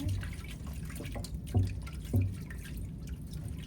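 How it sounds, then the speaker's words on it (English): Water dripping and splashing in a sink while an EEG saline cap is rinsed: two distinct drips stand out over a low, steady running-water wash, close by and fairly quiet. "once it's done filling it up, then we're just gonna gently wash over the water"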